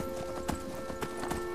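Horse hooves galloping in the video game Skyrim, on the in-game horse Shadowmere: quick, evenly repeating clip-clop hoofbeats over a steady ambient game drone.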